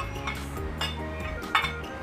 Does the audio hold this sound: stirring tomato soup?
yes